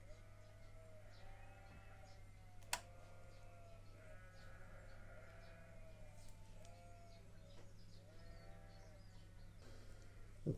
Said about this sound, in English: Sheep are some of the noisiest animals I've ever come across.